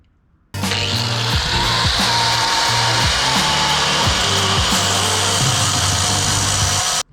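A power tool cuts through exhaust downpipe bolts on an OBS Ford 7.3 Powerstroke, starting abruptly and whining continuously at close range with a rough, pulsing grind for several seconds, then stopping.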